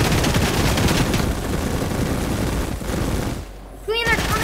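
Rapid bursts of gunfire in the Fortnite video game, dense loud shots at first, then thinning out, with game sound effects and brief voice chatter near the end.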